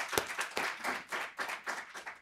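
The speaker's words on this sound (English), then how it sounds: "I think you all deserve an extended round of applause." Scattered clapping from panel attendees at the close of a briefing on city nature-based solutions, fairly faint with uneven bursts of hands rather than a dense ovation.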